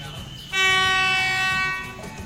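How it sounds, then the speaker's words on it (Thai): SRT train number 447 arriving on a jungle railway line, its horn sounding a long, loud, sustained tonal blast that lasts over a second above low rumbling background noise. "ตอนนี้ขบวน 447 กำลังเข้ามานะครับ"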